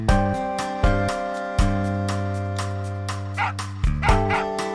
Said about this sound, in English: Oh, hey, look, the dog got free.